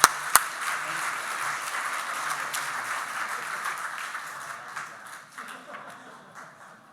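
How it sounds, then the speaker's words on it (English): A room of people at a club meeting breaks into a round of applause after a couple of sharp claps, the clapping steady and fairly close before slowly thinning out. "So just a big round of applause for these three people and Bill Meyer."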